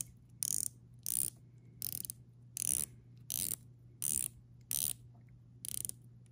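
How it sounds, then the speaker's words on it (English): Davosa Ternos GMT watch bezel turned in short bursts, eight crisp ratcheting click runs spaced evenly with brief pauses, close and clear against a faint background hum. "So let's check out the bezel action."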